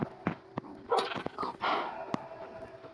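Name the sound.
dog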